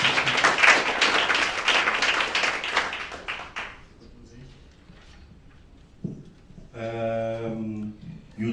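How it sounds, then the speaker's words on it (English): An audience at an entrepreneurship pitch event claps in dense, sustained applause for a few seconds and then fades to quiet, followed by a hum. "Can we please get a round of applause?"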